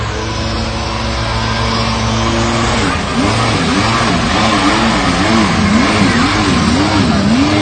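A jet ski engine revs on a river at Vang Vieng, loud and close over a steady rushing roar, its pitch wavering up and down in repeated swoops during the second half.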